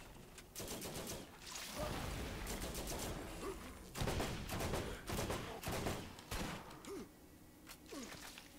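Gunfire in the Borderlands video game, with rapid bursts of shots and repeated automatic fire arriving in clusters over a steady background, fairly loud, with a brief voice near the start.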